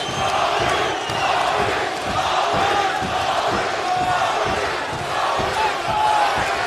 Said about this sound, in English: And the crowd getting behind Smith right now. And they're chanting Maurice.